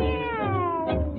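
A cat's meow sung in a tango song at a milonga dance event, drawn out with a slowly falling pitch, clear and close over the band's accompaniment.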